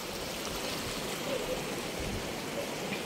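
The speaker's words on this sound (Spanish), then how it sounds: "Ahorita creo que estamos en un río, pero es de agua" A river of clean water in Colima, Mexico, flows with a steady, soft rushing hiss. It is faint and even throughout, with no one talking.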